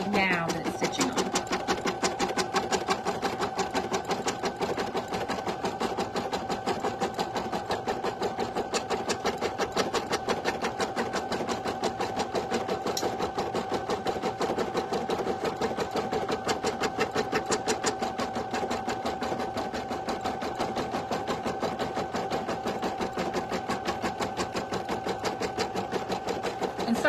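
An embroidery machine stitches fabric held in a hoop, a fast, even mechanical chatter running steadily and close throughout with no pauses, under faint background noise.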